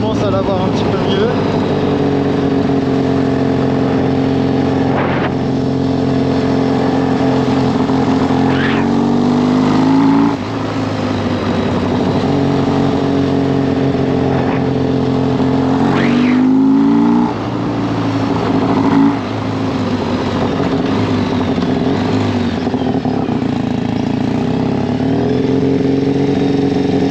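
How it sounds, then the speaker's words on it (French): A 750cc motorcycle, a supermoto converted for motocross, idles loud and close, its engine rising and falling through several sharp revs. "La moto elle a pas super bien tourné ces derniers temps."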